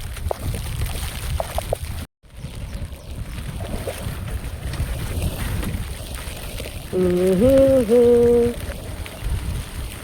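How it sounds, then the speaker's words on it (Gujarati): Floodwater after heavy rain pours across a road and into a pond-like pool in Mangrol, making a continuous broad rushing wash. A brief tonal sound rises over it near the end. "અને જો અહીંયાથી પાણી આવી રહ્યું છે"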